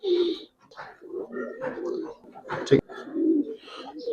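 Silver Giribaz pigeons coo in soft, repeated low calls, close by and mixed with brief human speech and a sharp handling noise.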